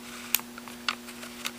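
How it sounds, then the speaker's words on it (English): The selector switch on a KWA G36C airsoft gun clicks several times, sharp close snaps spaced irregularly over a steady electrical hum. "The selector switch works okay. As you can tell, there's that clicking sound."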